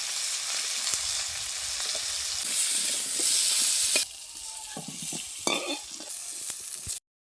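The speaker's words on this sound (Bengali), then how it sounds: "পেঁপেগুলো আর আলু একসঙ্গে ভেজে নেব। কেটে রাখা ডুমুরগুলোও আমি ভেজে নেব।" Papaya, potato and cut figs fry in oil in a pan, giving a steady, loud sizzle with stirring scrapes; the hiss drops sharply partway through, then continues more quietly with clinks before cutting off.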